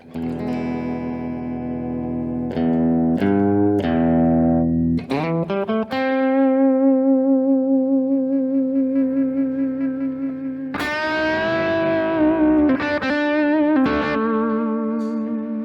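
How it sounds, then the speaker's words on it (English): Clean electric guitar through a Kemper with a Dumble Clean amp model, picking chords and single notes, with sustained ringing tones and a touch of reverb, played alone with no talking. "I'm plugged into the Kemper with a Dumble Clean sound."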